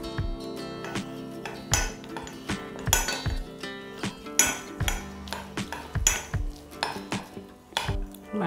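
A spoon stirring cocoa powder thinned with water in a bowl, giving irregular close clinks and scrapes against the dish, sharp metallic taps spaced unevenly with soft rubbing between, no talking.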